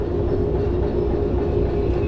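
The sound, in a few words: train coasting on rails in the video game Derail Valley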